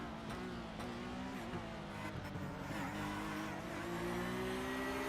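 Race cars in an iRacing six-hour endurance race roar steadily with a droning engine tone that slowly climbs in pitch, loud and continuous throughout, with a faint squeal of tyres in places.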